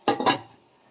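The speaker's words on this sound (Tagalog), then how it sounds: "Takpan natin ulit." Two quick metallic clanks of a lid set back onto a cooking pot in a home kitchen while bachoy is being made, close and fairly loud, then fading into quiet.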